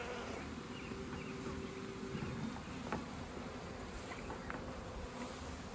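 A steady, dense buzzing of many honey bees fills the clip, close and continuous with no talking.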